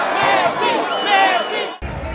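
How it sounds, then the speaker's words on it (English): Record-breaking stadium crowd at Soldier Field in Chicago roars and chants for Lionel Messi at his debut match, a dense, loud wall of voices that cuts off sharply near the end. "Soldier Field went all out for Lionel Messi's debut match in Chicago with a record-breaking crowd in attendance"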